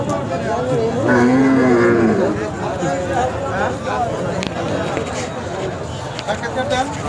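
Cattle moo loudly and repeatedly, one long low call standing out, over a steady babble of people talking in a busy outdoor cattle market at Pingna, Sarishabari, Jamalpur.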